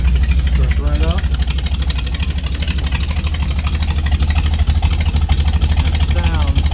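Close, loud idle from a 1953 Willys Jeep CJ3B running an open cherry bomb exhaust, a steady low rumble with rapid even pulses throughout, no speech over it.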